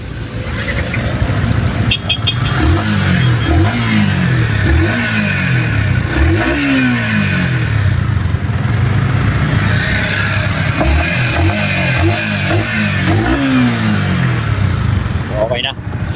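A Yamaha R15 V4 motorcycle engine idles loudly nearby and is revved repeatedly, its pitch sweeping up and falling back in several bursts.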